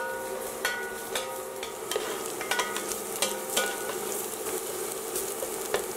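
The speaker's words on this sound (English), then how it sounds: "I'm gonna add in 4 cloves of minced garlic. I'm gonna give it a stir" Four cloves of minced garlic fry in a soup pot, a steady hissing sizzle with sharp scrapes and taps from stirring at irregular intervals.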